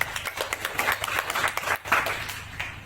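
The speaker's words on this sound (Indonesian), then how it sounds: "mari kita beri tepuk tangan untuk Tuhan" A church congregation claps together in a quick, steady rhythm, many hands sounding at once in a reverberant room.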